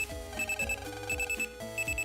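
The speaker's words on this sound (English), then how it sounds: "that's the sound of a phone ringing" A chiptune-style phone ring from the Mega Man Battle Network video game plays as a repeating electronic trill in steady bursts over game music, with no talking.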